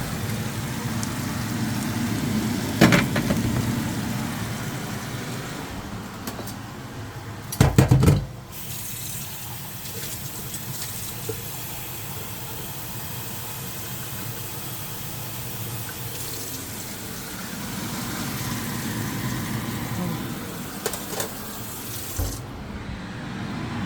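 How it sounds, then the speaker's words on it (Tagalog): Water pouring into a cooking pot of tomato-based tuna sarciado: a steady splashing, rushing flow that continues throughout, with a couple of louder clatters partway through. "lalagyan natin siya ng water"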